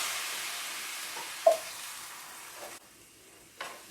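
Water poured into a pan of lightly sautéed lotus roots for braising: a close, hissing sizzle that slowly fades, a single sharp clink, then an abrupt drop to near quiet with one brief later knock.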